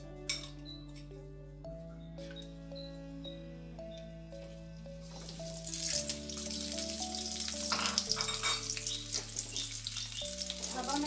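Carrots and potatoes fry in cooking oil in a preheated wok, a dense, steady sizzle that swells loud about halfway through and keeps crackling beneath continuous background music.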